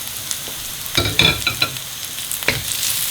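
Green chilies hit hot oil with golden fried onions for Goan mutton bafat, a sudden louder sizzle over a steady frying hiss with a few stirring scrapes close by.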